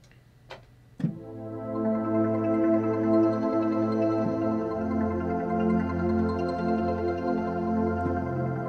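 Layered Omnisphere synthesizer keyboard pads build into a sustained, rich chord after a couple of soft clicks, swelling and holding steadily with no talk.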